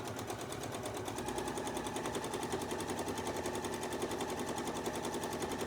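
A sewing machine stitches down a fabric fold fed through a Westalee braider tool, a steady, fast mechanical chatter that runs evenly throughout at close range with no voices.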